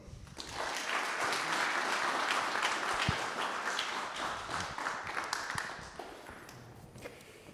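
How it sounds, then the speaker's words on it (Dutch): A small audience at an economics lecture claps for Frans van Houten, CEO of Philips, in a quiet, steady patter of hands that swells and then thins out over several seconds, with a few isolated claps near the end. "U moet hard klappen met, met z'n weinigen voor Frans van Houten."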